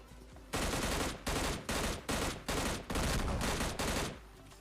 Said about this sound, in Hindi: अब यार इसके सामने से गन उठा के इसी को मार दिया मैंने